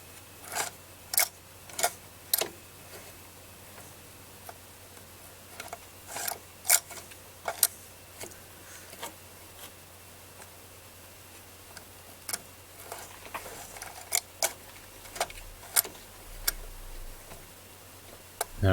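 A treadle sewing machine with a reciprocating bobbin holder stitches slowly, producing sharp, irregular ticks and clicks at close range over a faint hum, with no speech.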